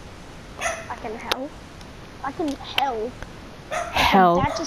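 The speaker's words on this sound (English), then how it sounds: "That's my dog in the background." A pet dog yips, whimpers and barks a few times in the background while people chat over a Fortnite game.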